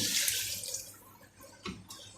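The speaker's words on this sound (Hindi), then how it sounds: "और ये पानी डाल के हमने यखनी चढ़ा देनी" Water splashes and pours into a cooking pot for trotter stock with ginger-garlic paste, a hissing rush that tapers off, followed by a couple of faint clinks and drips.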